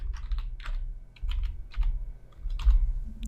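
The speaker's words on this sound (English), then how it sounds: "So just type that password in." Password being typed on a computer keyboard while connecting to a PostgreSQL database: several short bursts of close, crisp key clicks in quick runs with brief pauses between, under a low background hum.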